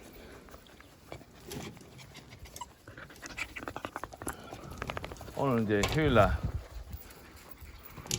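Jindo dogs moving around close by, with quick breathy panting bursts and some rustling, while a person talks over them throughout.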